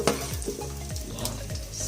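Onion being sautéed in a pan with chili for adobo sa gata, a soft steady sizzle with light stirring clinks under a faint background hum.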